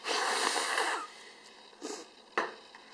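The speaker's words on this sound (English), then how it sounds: "Go ahead. Blow your nose." A child's long breathy nose blow is followed by a few shorter sniffs and snorts, close up and fairly soft, with no talking.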